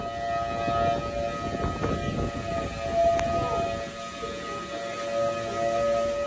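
Tornado warning sirens wail in Oklahoma during a tornado near a hotel, a sustained tonal drone with some rumbling noise beneath it, steady and fairly loud for several seconds.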